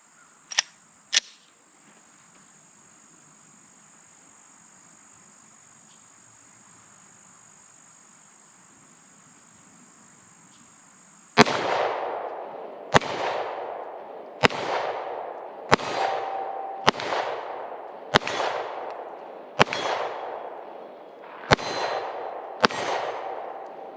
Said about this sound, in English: let's get back to shooting. Glock 48 MOS.